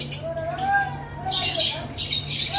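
Pet cockatiels or similar cage birds squawk and chirp in short bursts at close range, with a steady low electrical hum underneath and no talking.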